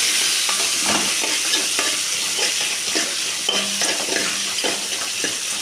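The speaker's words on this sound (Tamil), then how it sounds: "அடுத்ததாக அரிஞ்சு வச்சு வெங்காயத்தை போட்டுக்கலாம். வெங்காயத்தை நல்லா வணக்கிக்கலாம்." Chopped onions sauté in hot oil in a pan for chutney, a dense continuous sizzle broken by repeated scraping strokes of a spoon, loud and close, with no talking.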